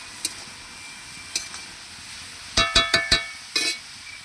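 Cabbage with ginger paste stirred in a pan, heard as a few sharp spoon-against-pan clinks and scrapes, first sparse and then a quick rhythmic run of four strikes, over a faint background sizzle with no talking.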